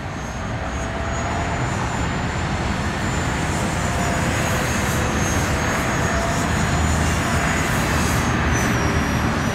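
An FF-Viper RC model jet flies overhead at a small field beside a freeway, its loud, steady turbine whine and roar filling the air continuously throughout.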